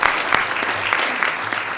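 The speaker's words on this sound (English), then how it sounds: "Big round of applause for our manufacturing industrial partners here employing people in Sacramento" Brief, close applause at a Sacramento city council meeting honoring manufacturing industry partners, a dense burst of clapping with some louder individual claps.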